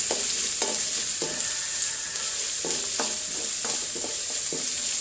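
Carrot and other vegetables being stirred and sautéed in a pan for upma, with a steady sizzle and repeated scraping strokes of a spoon against the pan, close up and without any talking.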